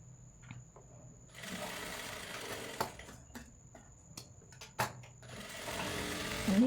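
Sewing machine stitching the side seams of a child's jumpsuit, its motor whirring in steady bursts, with brief pauses and sharp clicks between runs; close and moderately loud, with no talking.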